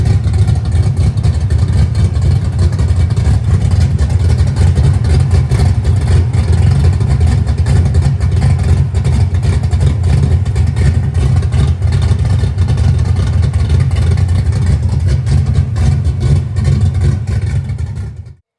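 A 1965 Mustang with a 347 stroker V8 rumbles loudly and continuously on a test drive down the road, the deep engine tone holding steady with small swells before cutting off at the very end.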